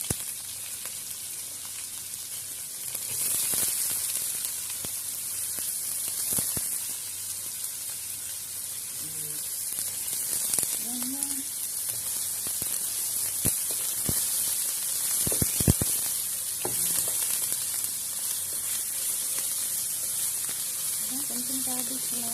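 Garlic and cabbage fry in a pan with a steady, bright sizzling hiss that lasts throughout, broken by a few clicks and knocks of cooking utensils, while someone talks over it.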